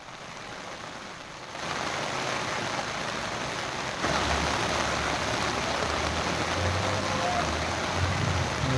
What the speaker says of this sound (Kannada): ಅದೇ ಥರ ಬಂತು ನೋಡಿ ಈಗ ಮಳೆ.